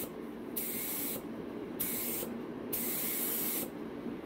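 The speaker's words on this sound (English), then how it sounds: "we're just going to try sample spraying on here" Three short test bursts of paint hiss from a spray gun, each about a second long, separated by brief pauses against a low background hum.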